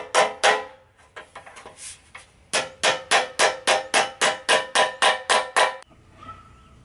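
Hammer blows ring on the sheet metal of a 1988 Kombi van during bodywork, loud and close. Two strikes open, then scattered light taps, then a rapid steady run of about fourteen sharp metallic hits before it stops.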